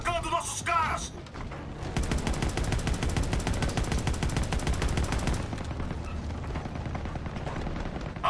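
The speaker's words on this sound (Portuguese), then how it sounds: "Tiros de armas leves!" Rapid small-arms gunfire and machine-gun bursts from a World War II campaign video game, sustained and loud through most of the stretch, with brief voice-like sounds near the start.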